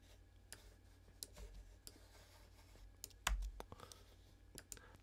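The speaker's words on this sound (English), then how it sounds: "I'm just pressing the zero key on the keyboard to mute the notes" A few sparse, sharp clicks of the zero key being tapped on a computer keyboard, quiet and close, with one slightly louder press midway and no talking.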